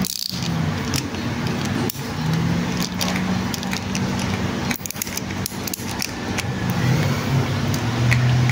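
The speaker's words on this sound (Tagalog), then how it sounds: "Tapos paanda rin natin yung makina." A Suzuki Raider 150 Fi motorcycle engine runs steadily after an oil filter cover is fitted, a close, continuous rough idle with small rattles and clicks throughout.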